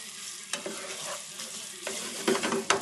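Heavy whipping cream is poured and stirred into a pot on the stove, giving a steady close sizzling wash broken by a few soft scrapes and knocks of a utensil against the pot.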